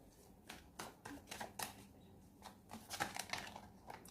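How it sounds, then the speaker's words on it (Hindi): Tarot or oracle cards being shuffled by hand, a run of soft papery riffles and slaps in irregular bursts, close and moderately quiet with no talking. "चलिए शफल कर ही लेते हैं।"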